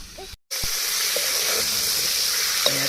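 River fish sizzles steadily in hot oil and masala in a pan, a loud continuous frying hiss with a brief drop near the start and a few small pops.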